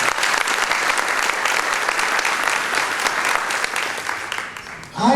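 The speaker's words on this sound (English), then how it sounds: "give Kevin a great round of applause" Sustained loud applause from a crowd, steady clapping throughout that tapers slightly near the end before a brief swell.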